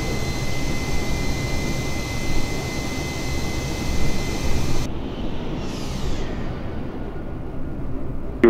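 Asiana Airbus A320 jet engines taxiing at Incheon airport, a steady loud broadband roar with a high whine that drops away midway, leaving a lower rumble, with no talk.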